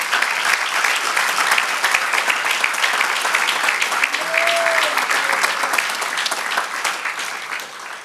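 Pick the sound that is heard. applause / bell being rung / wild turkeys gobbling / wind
applause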